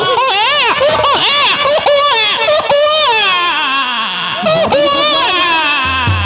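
A performer in a nautanki folk theatre play voices a baby's cry, an imitation of wailing, sobbing infant cries that rises and falls continuously and loudly, with brief breaks between sobs.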